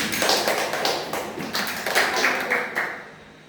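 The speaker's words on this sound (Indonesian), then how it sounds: "Beri tepuk dulu buat temannya" Classmates in an Indonesian university microteaching class clap for a student, a loud, busy burst of many hands applauding together that gradually thins out and fades toward the end.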